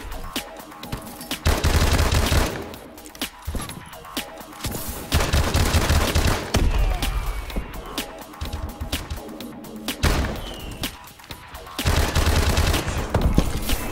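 An M1 Irons gun fires in a video game in repeated rapid bursts, loud close volleys separated by short pauses, with some faint in-game background between shots.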